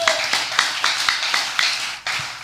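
A church congregation claps in a steady rhythm, about ten sharp crisp slaps spaced evenly and close by, with no talking over them.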